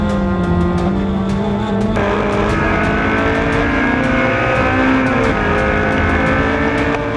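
Honda S2000-powered race cars, including an S2000-engined FRS, scream past at a Gridlife circuit race, engines revving hard and steady with shifting pitch, loud and close with no talk.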